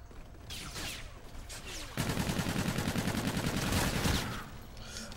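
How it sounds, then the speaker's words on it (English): Rapid gunfire from a light machine gun and other weapons in a first-person shooter gun game match, a dense, continuous rattle of shots that grows louder midway and carries on steadily, with game noise beneath. "Somebody's shooting at me."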